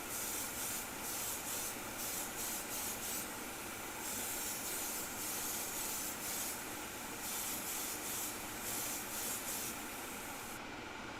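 An airbrush lays down a heavier coat of Timbertech paint as a steady, faint hiss in short on-off bursts, with no talking.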